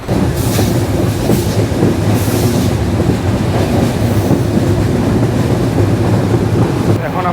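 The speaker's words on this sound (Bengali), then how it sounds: "আমাদের ট্রেন ছেড়ে দিল সান্তাহার জংশন" The Chilahati Express rolls out of Santahar Junction in Bangladesh, a loud steady rumble and rattle of railcars with rhythmic clatter heard from inside the coach, continuous throughout.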